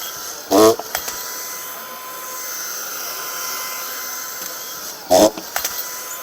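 A RhinoTrac tool drives a screw through a roofing plate in two short, loud bursts of driving noise at the start and end, with a quiet hum in between.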